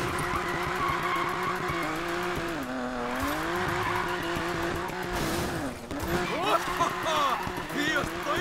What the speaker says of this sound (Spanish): A esto se le llama derrapar. Llevamos un derrape